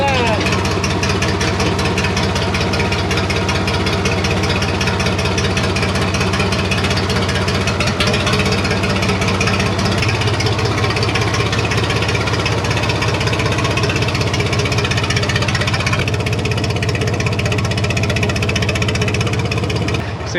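Loud, throaty International Harvester 484 tractor engine running through a straight pipe with no muffler at a steady idle, with a faint chugging pulse and people talking over it.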